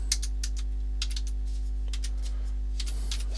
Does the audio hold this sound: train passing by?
no